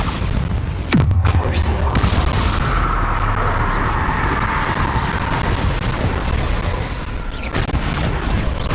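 A Bombarda explosion spell goes off in Hogwarts Legacy: a sharp blast near the start, then a heavy rumbling roar that holds steady and loud, with another hit near the end.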